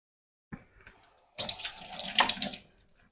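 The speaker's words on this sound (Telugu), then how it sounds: "ఇప్పుడు గ్లాస్ వాటర్ పోస్తున్నాను దీంట్లోకి" A few small clinks, then a glass of water pours steadily into a pot of bottle gourd dal at close range for a couple of seconds.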